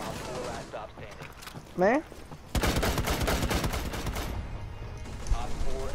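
Rapid automatic gunfire in Rainbow Six Siege, a dense burst of loud cracking shots filling several seconds after a brief voice, with game sounds and speech around it.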